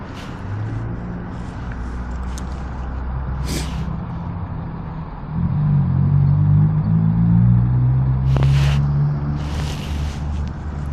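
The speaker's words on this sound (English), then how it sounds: "we do have some cars behind us coming in" Cars come up from behind on a New York City road, a low engine rumble swelling midway and holding, with a couple of brief hissing bursts like air brakes from nearby traffic.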